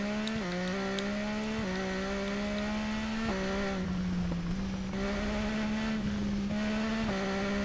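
A motorcycle in the racing game TT Isle of Man: Ride on the Edge 2 pulls away in second gear. The loud, continuous engine drone climbs in pitch, with several brief drops as it shifts gears and no voices.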